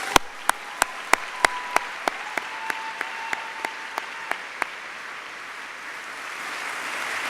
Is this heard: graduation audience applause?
yes